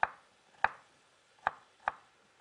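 Onion and pepper being chopped on a cutting board, four separate knife strikes spaced unevenly, close and crisp over quiet background.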